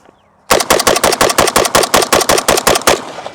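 An FN SCAR 16S rifle fires rapidly into a dirt berm, about fifteen sharp, loud, close shots in an even fast rhythm lasting under three seconds, followed by a brief ringing tail.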